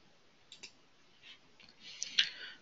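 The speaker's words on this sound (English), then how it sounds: "Click OK." A few soft computer mouse clicks at close range, scattered across a quiet room with faint background hiss and no talking.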